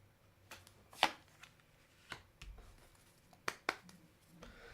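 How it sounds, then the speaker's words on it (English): Playing cards flipped over one at a time during a three-card reading, giving several soft, separate card snaps and slaps spaced a second or so apart against a quiet room. "I'll flip each card over one at a time, like we're reading the pages of a book."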